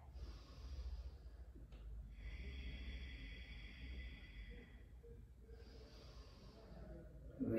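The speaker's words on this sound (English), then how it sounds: "Let's do 3 nice deep breaths here." Slow deep breaths during a yoga posture flow, two long airy inhales and exhales close to the microphone over a low steady background hum, with a brief sharper sound at the very end.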